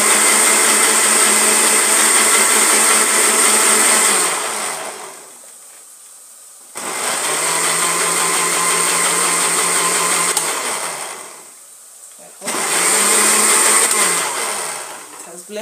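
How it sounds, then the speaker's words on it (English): A blender whirs loudly as it purees tomatoes, red chilies and peppers, running in three long bursts with short pauses between them. "It has blended well."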